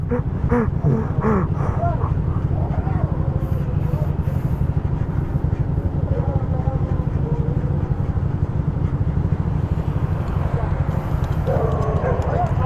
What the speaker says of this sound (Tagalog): may aso na.